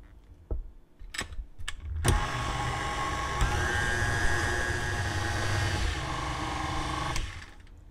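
An electric mixer creams cream cheese pound cake batter, starting after a few clicks and bumps and then running as a steady, loud whirring hum with a slight pitch shift before tapering near the end.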